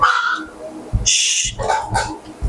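A pet dog barks in a few sharp bursts close by indoors, with a person briefly hushing it between the barks.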